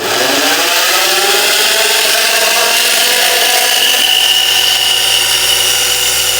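A small electric motor, fed about 50 volts, runs continuously with a loud, steady buzzing whine, its pitch rising slightly as it spins up.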